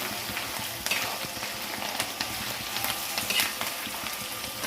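Mustard seeds, lentils and spices crackle and sizzle in hot peanut oil as a tempering for pulihora, a close, busy spatter with sharp pops and no talking.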